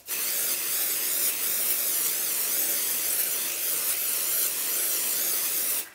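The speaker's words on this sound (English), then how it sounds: "you're gonna want to spray backwards and forwards" A can of stencil adhesive spray releases a loud, continuous close-up hiss for several seconds, swept back and forth over a stencil.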